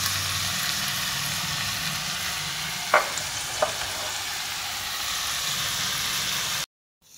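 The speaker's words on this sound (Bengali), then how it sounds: "এবার একটু এটা জাস্ট ফ্রাই হবে।" Semolina and mashed potato fry in a pan with a steady, close hiss, broken by two brief knocks of a utensil near the middle before the sound cuts off.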